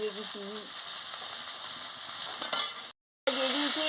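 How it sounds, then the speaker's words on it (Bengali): Kakrol (spiny gourd) frying with onions in a pan, a steady bright sizzle with stirring scrapes throughout, broken by a brief silent gap near the end before the sizzle resumes; a faint tonal hum sits underneath. "ভালো করে ভেজে নিচ্ছি কাঁকড়োটাকে ভালো করে পেঁয়াজের সঙ্গে ভেজে নিচ্ছি"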